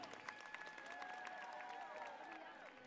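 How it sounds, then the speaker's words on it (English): Audience applause with scattered cheers for the top five finalists at the Miss Grand International 2021 pageant final, a steady wash of clapping in a large hall. A host's voice and tonal music sit faintly over the clapping. "Please give a round of applause for our top five here."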